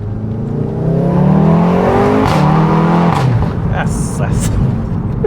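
A VW Golf 7.5 R accelerates hard on the road, its engine climbing through rising sweeps with a brief shift break. The note is loud and close and sounds alone.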